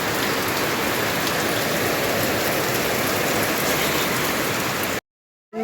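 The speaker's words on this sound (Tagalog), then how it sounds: "grabing lakas man ng ulan" Heavy rain pours down in a dense, unbroken hiss on surfaces close by, loud and steady until it cuts off abruptly near the end.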